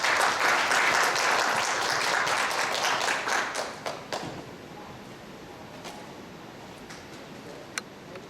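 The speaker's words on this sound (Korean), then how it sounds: "여러분 뜨거운 박수로 맞이해 주시기 바랍니다" An audience welcomes a speaker at a seminar with warm applause, many hands clapping densely for about four seconds, then thinning into a few isolated claps as the room goes quiet.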